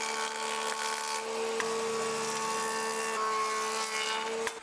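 A thickness planer runs steadily on hardwood boards, a loud, continuous mechanical whine with strong steady tones, close up and alone, with a brief knock partway through.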